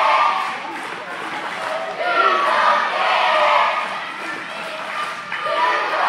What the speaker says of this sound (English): A crowd chanting that Steve is gonna get it.